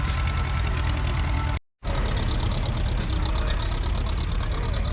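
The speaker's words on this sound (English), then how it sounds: "This was the original Ferguson tractor." An old original Ferguson tractor with a proper side valve engine and magneto runs steadily at close range, a continuous loud rough chugging drone with brief dropout partway through, no talk over it.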